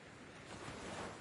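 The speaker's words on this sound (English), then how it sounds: "listening to some background sound of waves crashing on the shore" Ocean waves washing onto a shore, a soft, broad rush of surf swelling gently over about a second, steady and distant-sounding with no voices.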